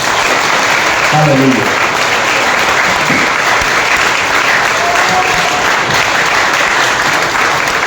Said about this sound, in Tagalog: Malakas na palakpak sa Lord.